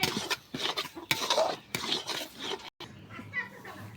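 Milk being stirred in a pot while cooking at home, soft scraping and clinking of a utensil against metal in uneven strokes, with a person talking over it.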